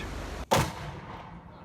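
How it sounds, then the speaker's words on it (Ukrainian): A single loud blast from artillery or gunfire erupts near Bakhmut during a frontline exchange, a sharp broadband crack followed by a rumbling decay over steady background noise. "Росіяни з самого ранку відкривають вогонь, ну і звичайно отримують відповідь."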